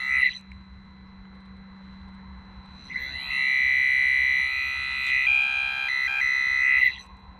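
A Quest Xpointer MAX pinpointer metal detector with a water-flooded speaker, just pulled from water, gives a steady high electronic tone that cuts out briefly and then returns as a loud sustained beep for several seconds, with no talking.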